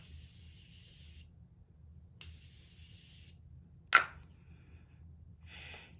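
Two short hissing sprays of makeup setting spray from a pump bottle, separated by a pause, followed by a soft click and a brief faint hiss over low background hum.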